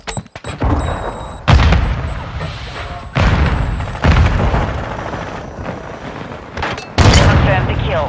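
Semtex grenade explosions and gunfire in Call of Duty Mobile during a Kill Confirmed match on El Asilo, with loud booming blasts recurring every second or so amid rattling shots, close and dense.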